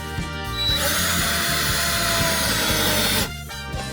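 A power drill drives screws into the tabletop of a FlexiPro E6 Max desk, one steady loud whirring run of about two and a half seconds with a short start and a sharp stop.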